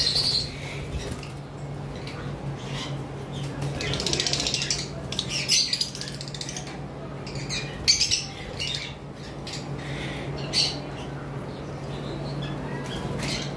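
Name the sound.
green Fischer's lovebirds squawking in an aviary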